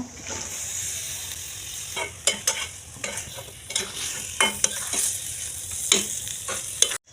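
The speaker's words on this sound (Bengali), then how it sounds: "আমি মশলাটা দশ মিনিট কষায় নিচ্ছি" Spice paste being stir-fried with coconut milk in a pan for a coconut prawn malai curry, a steady sizzle with scraping spoon strokes and clinks throughout, close by, no talking.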